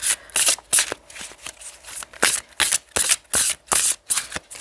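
Tarot cards are shuffled in quick repeated riffles, a rhythmic run of crisp papery flutters and taps close to the listener, with no talking over them.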